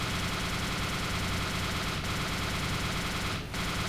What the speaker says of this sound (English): Where are we being shot from?